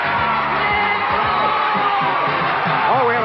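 A game show studio audience for Match Game cheers loudly, a continuous roar of whoops and yells with a voice speaking over the crowd.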